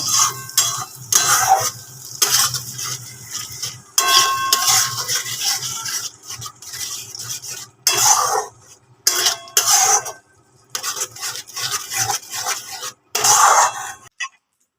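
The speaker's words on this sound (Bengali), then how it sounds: "খুব ভালো করে কিন্তু মিডিয়াম ফ্লেমে মশলাটা কষিয়ে নিতে হবে" Spice paste with green chilli sautéing on a medium flame, heard as bursts of sizzling and spatula scraping against the pan that start and stop repeatedly, fairly loud and close, no talk.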